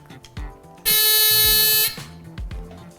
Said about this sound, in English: with all the wires twisted together, we can flip the switch and the buzzer will go off